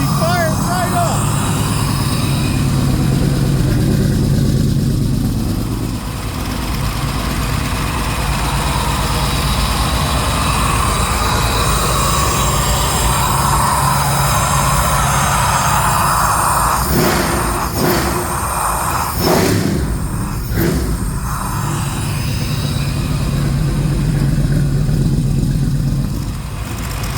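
An LS 6.2 V8 on a run-test stand settles into a loud, steady idle that drones on throughout, with a few brief blips in the middle and talking over it.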